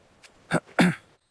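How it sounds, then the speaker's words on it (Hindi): Someone coughing badly inside a hut: a faint first hack, then two harsh, rough coughs close by, the last one longest and loudest, with silence afterwards. "अंदर से आवाज आ रही है किसी के बहुत बुरी तरह खांसने की"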